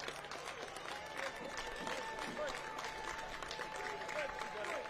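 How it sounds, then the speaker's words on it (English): Fans at a Bahamas Games softball game give a faint, distant round of applause, a steady spread of clapping that lasts the full five seconds. "And a round of applause here for the fans."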